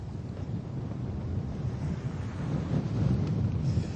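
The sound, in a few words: east wind at sea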